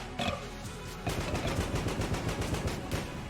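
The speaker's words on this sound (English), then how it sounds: "That was one shot with this grenade launcher." A grenade launcher firing in the video game Enter the Gungeon, where every gun behaves like a shotgun: a sharp blast followed by a dense, steady stream of rapid gunfire and explosions, loud and continuous with no talk.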